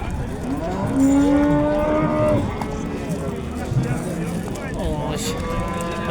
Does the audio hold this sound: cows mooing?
yes